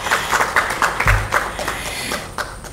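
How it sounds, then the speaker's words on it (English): Audience applause at an ethics conference session, steady clapping from a modest crowd with individual claps audible as distinct sharp hits, moderately close throughout. "I request a round of applause from the audience"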